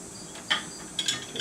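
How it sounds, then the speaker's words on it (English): A metal bolt pushed through the wooden stop on a Masterforce rolling miter saw stand, a few small metallic clicks and rattles, close and fairly quiet. "So put our bolt through."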